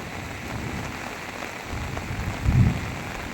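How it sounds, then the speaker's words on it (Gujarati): Heavy rain pours down on a village in Bagdana, Gujarat: a constant hissing wash of drops on surfaces with a low rumbling swell near the end. "અત્યારે વરસાદ એટલો બધો પડી ગયો છે કે વાત જ ના પૂછો"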